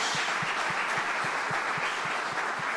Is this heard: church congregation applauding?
yes